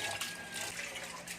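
A weak tap stream trickles over rice being washed, a soft steady hiss of running water with no talking.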